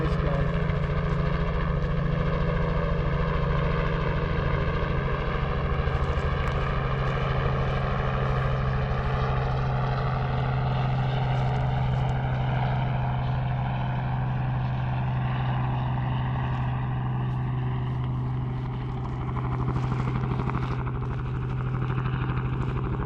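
Propeller aircraft, a floatplane, droning steadily close by on a river beach along the Kobuk in Alaska, its loud engine and prop note holding for the whole stretch with a slow rising shift in pitch.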